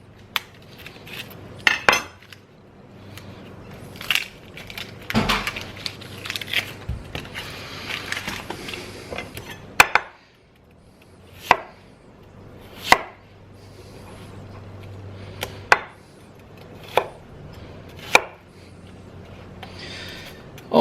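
Knife strokes from a HOSHANHO Loong Series kitchen knife chopping a sweet Vidalia onion on a board: sharp, close thuds, irregular at first, then evenly spaced single chops with quiet gaps between.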